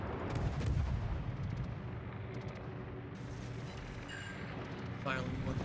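Warship naval guns firing in a World of Warships battle, with deep booming blasts and rumbling impacts layered over continuous game noise, while someone talks over the action.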